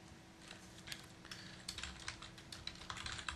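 Quiet, rapid typing on a computer keyboard, a continuous patter of key clicks that grows busier toward the end, with no talking.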